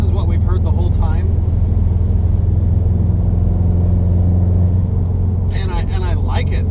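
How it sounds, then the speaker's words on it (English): A 2019 Subaru WRX STI Limited rumbles steadily while driving, a loud, deep, continuous engine drone close up, with brief higher chatter at the start and end. "The Subaru rumble, that's for real."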